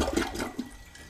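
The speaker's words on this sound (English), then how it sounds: "Flush the toilet." A toilet with a Fluidmaster DuoFlush dual-flush valve flushing, a brief close rush of swirling, gurgling water lasting about a second.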